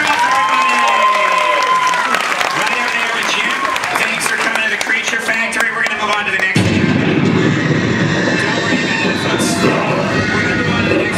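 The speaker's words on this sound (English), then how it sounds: "Give this young lady a round of applause." Audience at a special effects stage show at Universal Studios Hollywood breaks into loud, dense applause, following a stretch of someone talking over the crowd; the clapping is close, steady and sustained to the end.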